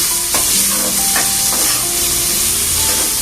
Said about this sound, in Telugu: కొంచెం కలర్ వచ్చేవరకు ఫ్రై చేసుకోవాలి